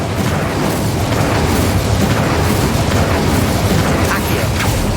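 Incendio fire spell cast in the Hogwarts Legacy video game, a loud, dense burst of roaring, crackling flame noise held steady for several seconds, with a voice briefly audible.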